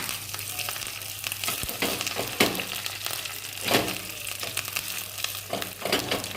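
Curry leaves drop into a hot pan of oil for a drumstick-leaf, plantain and dal curry, setting off a close, steady sizzle with scattered crackles and pops.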